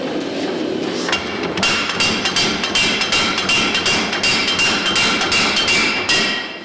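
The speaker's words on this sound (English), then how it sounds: "throw it underneath the 1924 400-pound Bowie mechanical forging hammer" A 1924 400-pound Bowie mechanical forging hammer pounding steel heated to about 2200 degrees Fahrenheit, a loud, rapid, steady series of heavy metallic blows that starts up and continues without pause, close and alone.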